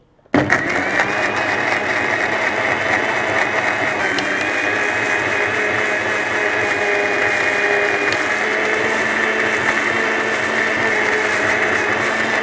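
A blender grinds jackfruit seeds with sugar for a shake, starting abruptly and then running as a loud, steady motor whine that holds for the full stretch.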